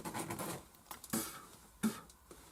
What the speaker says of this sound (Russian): Почистил рыбу.